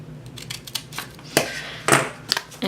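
Scissors snip through paper planner headers, a few quick close cuts with brief pauses between them, sharp and crisp against a quiet room.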